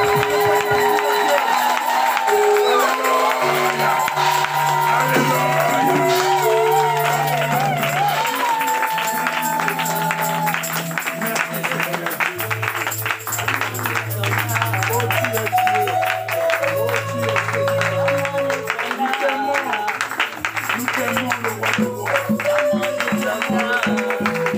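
A church congregation cheers and acclaims loudly and continuously during a worship service, a crowd roar with clapping layered over music and voices.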